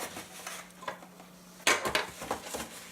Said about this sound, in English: In go the eggs.